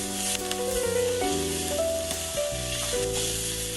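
Eggs sizzling in a tomato stir fry, a steady, close crackling hiss that runs throughout beneath prominent background music.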